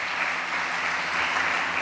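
Steady audience applause at a church youth meeting, a dense even wash of many hands clapping together, moderately loud and continuous without any voices.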